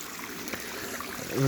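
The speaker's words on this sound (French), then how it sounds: "C'est très agréable d'ailleurs ce bruit de l'eau qu'on entend de la maison." Small cascade of water from natural spring drainage, a steady soft trickle and splash heard continuously at moderate distance, with a faint tonal hum rising near the end.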